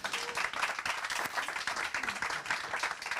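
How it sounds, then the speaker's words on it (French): Audience applause in a workshop session, steady dense clapping at moderate level throughout, with faint murmurs underneath. "On va applaudir Clara, s'il vous plaît."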